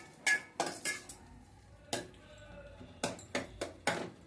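Masala paste and ground coriander being stirred in a pan for capsicum curry: intermittent clinks and scrapes of a metal spoon against the pan, irregular and close, fairly quiet.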